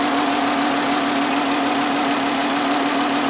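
A 2009 Volkswagen Jetta 2.5L engine idles with a misfire while one ignition coil is unplugged, producing a loud, close, steady drone with a constant hum and no voices.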